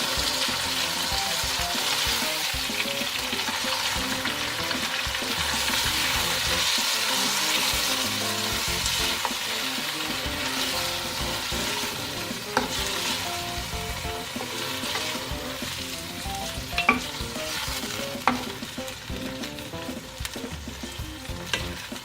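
Spice masala with chillies and salt frying in a karahi for spicy Sindhi biryani, a steady close sizzle with stirring scrapes and a few sharper clinks toward the end, no voices.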